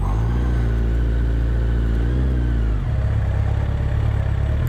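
A small motorcycle engine hums close and steady as the bike rides up to a house, pitch shifting as the rider eases off and the note drops to a lower idle-like rumble.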